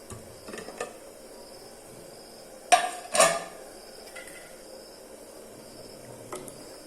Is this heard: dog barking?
no